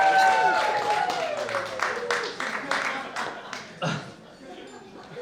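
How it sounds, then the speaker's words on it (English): Wedding guests applaud the bridesmaids in a burst of clapping that gradually thins out over a few seconds, with talking and cheers mixed in. "round of applause to the bridesmaids."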